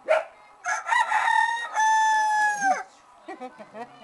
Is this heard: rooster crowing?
yes